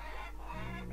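Chickens cluck in the Farmers Dynasty farming video game, giving a brief nasal call over a steady low hum.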